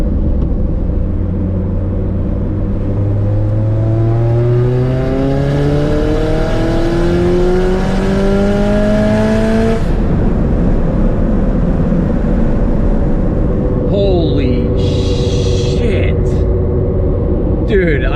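Turbocharged Toyota GT86 / Subaru BRZ / Scion FR-S pulling hard through the gears, its engine note rising in long sweeps with shifts, then easing off with wind and rumble; a voice speaks near the end.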